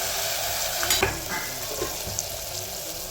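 Spices fry in hot oil with onion, tomato and potato for a tempering, a continuous close sizzle broken by a few stirring scrapes.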